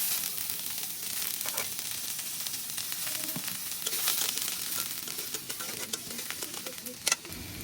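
Onions frying in oil for Bengali egg curry, a constant close sizzle with crackling pops and occasional stirring clinks, one sharper knock near the end.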